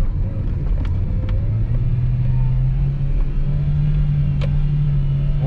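A Ford Fiesta 1.0 sedan engine downshifts and accelerates, its steady mid-pitched drone climbing gradually in pitch as revs build. Road rumble runs underneath, with a couple of brief faint clicks, and nobody speaks.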